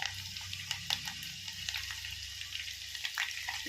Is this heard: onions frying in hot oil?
yes